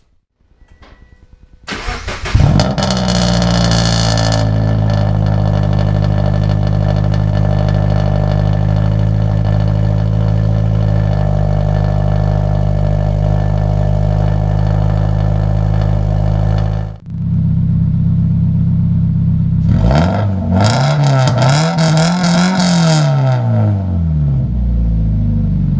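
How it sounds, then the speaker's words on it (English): Cold start of a Subaru BRZ/FRS/86 fitted with an aftermarket cat-back exhaust: the starter cranks, the engine catches with a loud flare, then settles into a steady, deep idle that briefly cuts out before a couple of sharp revs. "So let me go get my keys and we'll do a cold start and see what it sounds like."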